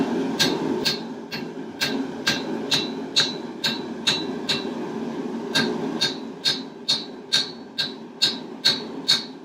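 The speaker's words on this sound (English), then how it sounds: "And then we're just going to hammer it." Hand hammer blows land on a rivet at a forge, a steady series of sharp metallic strikes that grow louder and more regular toward the end, over a low background roar.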